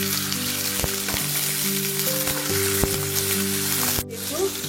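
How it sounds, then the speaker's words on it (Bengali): Steady, loud sizzling of potatoes frying in mustard oil, a continuous crackling hiss with a few sharp pops and a brief dip near the end. "আলুটাকে ফ্রাই করে দেব।"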